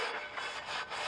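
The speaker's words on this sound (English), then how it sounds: "This is just steel wool. Take our steel wool to it." Steel wool scrubbing a cast iron skillet during restoration, producing close, harsh back-and-forth rasping strokes in a quick repeating rhythm.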